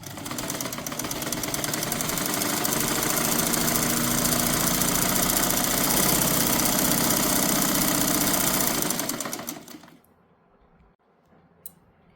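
Sewing machine running a double stitch along palazzo pants, a loud continuous motorized whirr held for about nine seconds before stopping abruptly, followed by a quiet pause with a faint click.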